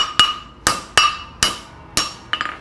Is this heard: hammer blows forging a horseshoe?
yes